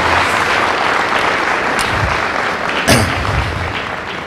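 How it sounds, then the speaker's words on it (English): Audience applause at a high school signing day ceremony, a steady wash of clapping that holds for several seconds with a single louder thump near the end. "So if we could give her a round of applause."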